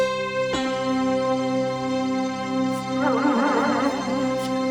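A sustained synthesizer tone with a bright, reedy pulse-wave timbre, holding steady while the texture shifts and shimmers near the end.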